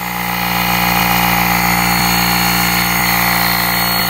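A GOOLOO GT160 portable tire inflator runs with a steady, loud motorized drone and buzzing hum, continuously without a break, close by.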